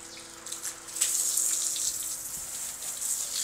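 Water runs steadily while green garden plants are watered, a close continuous splashing rush that swells after the first second and holds at a fairly even level with no talk.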